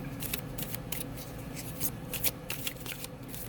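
A deck of tarot cards is shuffled by hand, giving rapid riffling bursts of crisp papery flutter close up and fairly quiet, repeating in quick clusters with no talk.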